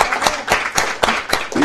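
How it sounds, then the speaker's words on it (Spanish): Loud, evenly paced clapping close by at a business presentation, several hands striking in a quick regular rhythm like brief applause. "Un fuerte aplauso para ella."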